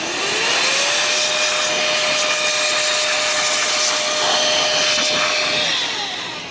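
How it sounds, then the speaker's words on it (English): An air blower blasts steadily inside an HP Designjet large-format printer, a loud continuous rushing whoosh with a rising motor whine that holds for several seconds before easing off, with no talk over it. "you take your air blower"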